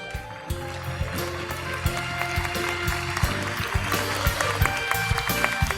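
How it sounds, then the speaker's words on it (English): An audience at a large live stage show celebrating Canada's 150th anniversary applauds steadily, a dense continuous wash of clapping with scattered louder claps throughout. "Let's give them all a round of applause."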